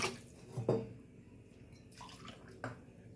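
A short splash of water pours into a cooking pot, followed by quieter trickles and a second brief pour against faint background noise.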